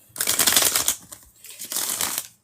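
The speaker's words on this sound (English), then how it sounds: "Can I do a random shuffle" Tarot cards being shuffled, two bursts of crisp riffling close up, the first longer and louder, with a brief pause between them and no talking.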